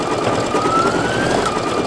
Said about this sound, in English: And it's going to do the little final stitch on this.